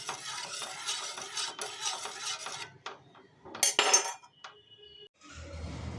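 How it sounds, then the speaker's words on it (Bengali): Plant fertiliser ingredients stirred and mixed in a container for hibiscus feed, with busy scraping, clinking stirs that pause, then a sharp clatter and a rougher rustling at the end, close and without talk. "এটাকে ভালো করে আমি নাড়িয়ে দেবো এবং ভালো করে সমস্ত উপাদানগুলোকে আমি মিশিয়ে দেবো।"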